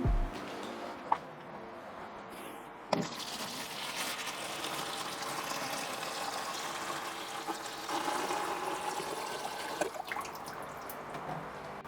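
Well water runs steadily from a tap into a container in a continuous rushing gush, with a couple of brief clunks near the start and a faint splash later.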